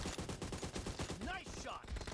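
Rapid gunfire in the battle royale shooter PUBG during a team deathmatch, dense and loud shots repeating in quick succession throughout, with brief whooshing effects midway.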